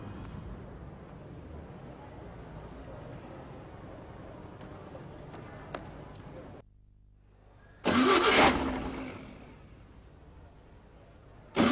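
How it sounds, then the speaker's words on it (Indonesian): A broken-down car's engine is cranked after a stretch of low, murmuring background and a brief near-silence, giving a sudden loud starting burst that fades back down. "Tolong nyalain mesin dong, sekarang ya."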